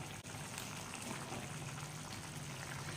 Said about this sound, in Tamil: இது நல்லா கொதிக்கட்டுங்க